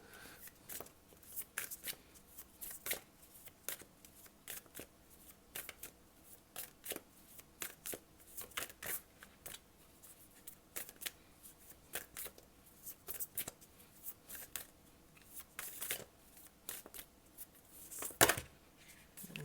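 Tarot cards being shuffled by hand, with a steady run of soft, quick riffling flutters and light taps that repeat across the stretch, close up and fairly quiet, with a sharper burst of card noise near the end and no talk.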